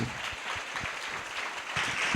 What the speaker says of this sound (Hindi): ताली बजाकर हम धन्यवाद देंगे प्रभु को।